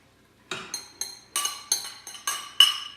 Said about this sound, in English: And we're gonna go ahead and add our mushrooms.